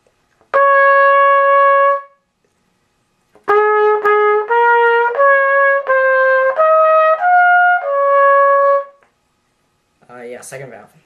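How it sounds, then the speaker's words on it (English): A trumpet plays a whistle tune, first as one long held note, then as a slower sequence of clear, bright sustained notes stepping through the melody. "I'll play it one more time"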